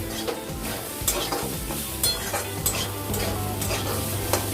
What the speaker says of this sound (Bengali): এই দেখুন ভাজা ভাজা হয়ে গেছে, জিরের কাঁচা গন্ধটাও চলে গেছে